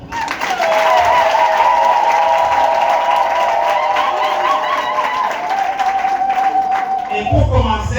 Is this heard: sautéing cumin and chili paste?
no